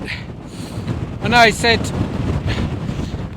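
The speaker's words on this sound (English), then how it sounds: "This wind is relentless." Strong wind gusts on a fell in the Lake District, a loud continuous buffeting roar against the microphone, with someone speaking briefly in the middle over it.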